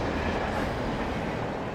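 In the video game Alan Wake a passing train gives a continuous heavy rumble with faint clickety-clack of wheels on rails, loud and near, steady from start to end, no speech.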